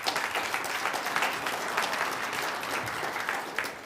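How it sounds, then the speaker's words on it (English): Applause from an audience in a developer training class, a burst of mixed claps that holds steady for several seconds and then thins out toward the end. "Only in a dev class do you get claps for something that should have worked."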